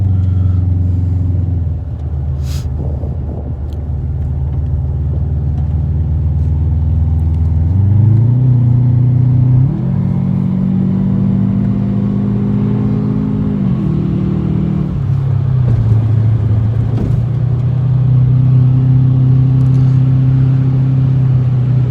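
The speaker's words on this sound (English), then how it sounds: "nothing like a turbocharged all-wheel drive car with a good sounding exhaust" A turbocharged all-wheel-drive 2005 Subaru Legacy GT's engine and exhaust drone loudly from inside, pitch climbing through gear changes as it accelerates toward 100 mph on a freeway, a steady deep rumble throughout.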